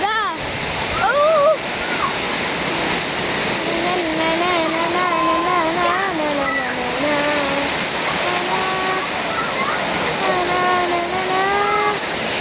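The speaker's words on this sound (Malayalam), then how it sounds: "നല്ല മഴ കേട്ടോ ഗൈസ്, നല്ല മഴ" Heavy rain pours in a dense, steady roar from start to finish, with a person speaking over the downpour.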